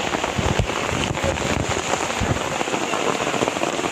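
Rain falls during a fishing outing for prawns and tilapia, a dense, steady patter of drops with scattered louder splats close by, continuous throughout with no voices.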